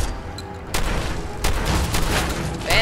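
Gunfire in the video game Fallout 4 comes as a few sharp blasts with rattling tails, spaced a second or so apart at moderate loudness, with no speech over them.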